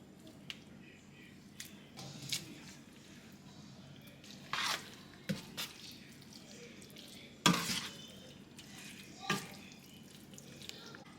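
Pasta being stirred into chicken alfredo sauce in a pan, with soft wet squishing and scraping strokes, a few louder clacks of the spoon against the pan, and a faint sizzle underneath.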